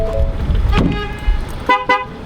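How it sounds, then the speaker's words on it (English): A car horn gives a short toot, followed by two quick honks close by, with no talking, sounding because the key was taken outside while the car was running. "when you take your key and you go outside the car with it running, it honks"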